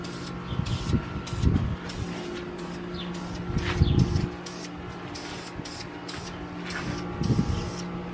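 Ceramic coating sprayed onto car exhaust headers in repeated short bursts, sharp hissing blasts of a spray gun a few seconds apart, close and loud over a faint background hum.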